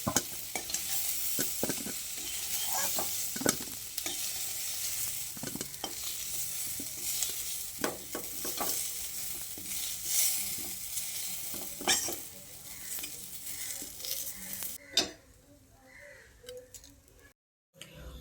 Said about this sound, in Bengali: এইভাবে উল্টে পাল্টে কচু আর আলুটাকে এইভাবে লালচে করে ভেজে নিতে হবে